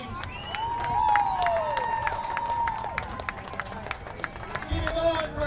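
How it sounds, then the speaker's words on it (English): A crowd at a high school varsity football game, Northwest at Francis Howell North, claps and cheers for both teams, with scattered sharp claps and a voice over the public address system running through the applause. "Let's have a round of applause for both teams."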